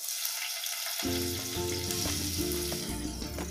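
Onions hit hot oil for a mushroom biryani with a sudden loud sizzle that keeps crackling steadily, close up, with faint stirring clinks.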